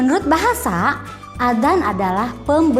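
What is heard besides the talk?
None of the usual background noises is heard.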